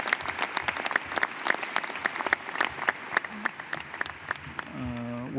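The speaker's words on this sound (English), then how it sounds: "Would we give another round of applause to the distinguished panels that presented today?" A conference audience applauds panelists with sharp, distinct claps that run steadily and fairly close, then taper off as a voice begins speaking near the end.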